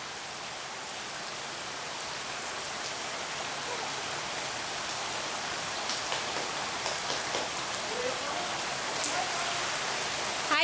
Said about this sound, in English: I promise it's raining.